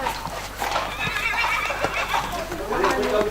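A mare moves about during a riding lesson in an outdoor arena, giving off a whinny and clip-clopping hooves amid steady outdoor noise, while a voice talks over the top.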